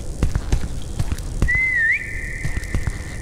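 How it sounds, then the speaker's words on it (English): A character in the horror game Voidness whistles a short rising-and-falling note, then holds a long steady tone, over loud rhythmic footstep thumps and rustling. "She needs to stop with that dang whistling"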